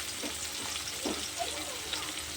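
Chopped onion and green chilli fry in hot oil, a steady crackling sizzle with faint stirring scrapes, close and continuous throughout.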